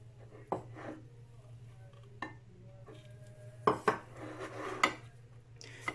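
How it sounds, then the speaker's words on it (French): Bitter unsweetened cocoa powder stirred with a little water in a bowl, giving a few sharp clinks and scrapes of a spoon against the dish over a low steady hum, fairly quiet, with no talking. "le cacao amer, et je mélange avec un peu d'eau"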